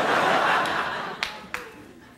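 A lone audience clap in a late-night TV studio, two sharp isolated claps ringing out after a brief murmur of chuckling from the crowd.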